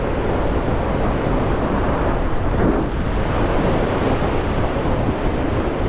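Strong wind buffets the microphone on a Bristol Channel shore at Brean during April bass fishing, a loud, continuous roar that stays steady throughout with no voices.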